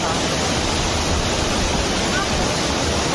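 Waterfall near Pune on the Kanhe Khandi road, a loud, steady broadband roar of cold water falling close by, continuous with no break, while a crowd is out of sight.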